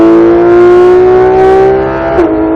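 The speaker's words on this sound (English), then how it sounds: "Ease back onto that throttle. Straighten it up and let it rip." A Porsche GT3 RS engine on track at Speed Vegas, a loud sustained high-pitched wail climbing steadily under full throttle, then a quick dip and brief chirp before the tone settles, heard from inside the car with no talk.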